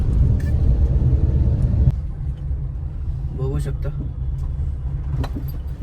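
Road traffic crawling along a dug-up city road, with a low steady rumble of cars and engines close by, while a person talks over it.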